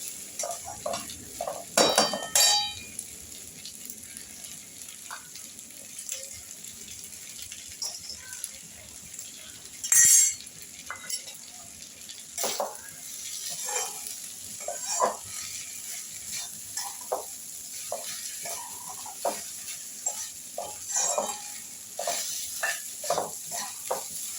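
Spice paste frying in oil for a rohu fish head curry, with scattered scraping and stirring knocks from a spoon in the pan over a faint, steady sizzle, with a couple of louder clattering bursts.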